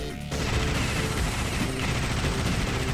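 Minigun gunfire in the Alien Shooter game, a dense, continuous rattling burst that kicks in after a brief pause and stays loud and relentless to the end.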